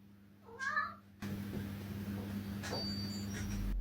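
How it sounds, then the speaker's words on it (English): A house cat gives a short nasal meow, close by and fairly clear, followed by a brief faint second cry over steady indoor hum and low room noise. "My cat just keeps walking around meowing"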